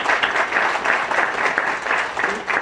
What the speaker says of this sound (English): You guys are clapping for him.